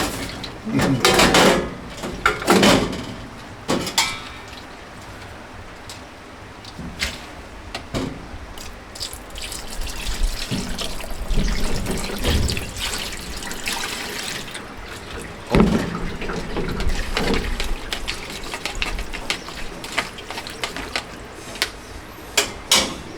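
Water runs and splashes as tea leaves are washed, a close, uneven wash of pouring and sloshing with clunks and knocks of handling, occasional voices nearby.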